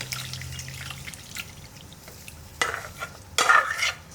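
Cooking water drains off boiled goat intestines in a kitchen, with splashing, dripping and pouring that swell into louder gushes near the end.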